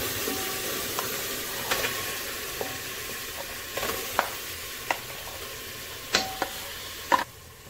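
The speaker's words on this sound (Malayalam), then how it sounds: "നമ്മളിപ്പോൾ ഒരു 3/4 കിലോ മട്ടനാണ് വേവിക്കുന്നത്" Three-quarters of a kilo of mutton cooks in a pot for Malabar biryani, giving a soft, steady sizzle and simmer. Occasional stirring clinks and scrapes sound close, over a quiet background hiss, with no talking.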